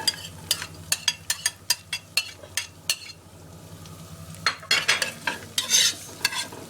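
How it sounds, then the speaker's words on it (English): Onions and curry leaves frying in a pot, a rapid even series of spoon scrapes and taps over a soft sizzle, pausing briefly before another burst of louder stirring and clinks. "My onions have been cooking for about 3 minutes now."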